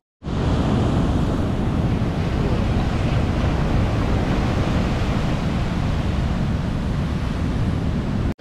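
Onshore wind and ocean surf at a Panama beach form a dense, continuous roar of breaking waves and wind buffeting, loud and unbroken from start to finish.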